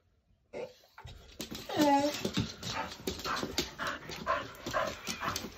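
An Irish Blue Staffordshire Bull Terrier whimpers and whines indoors, close and fairly loud, with high pleading cries and soft yips while a person talks to it.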